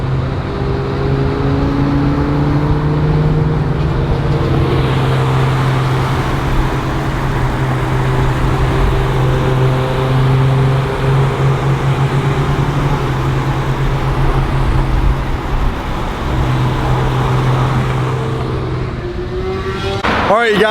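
Exposed carbon Bugatti EB110 driving by, its engine droning in a steady low hum with rising and falling revs, loud and close for the whole stretch, ending with a brief clatter.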